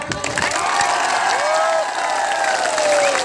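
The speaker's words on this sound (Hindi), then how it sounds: "सब लोग जोर से एक बार ताली दो इनको।" A crowd at a gathering applauds and cheers in a brief, steady wash of clapping, with a voice speaking over it.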